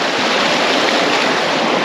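A river rushes with a high current, a loud, dense, continuous roar of churning water heard close and alone.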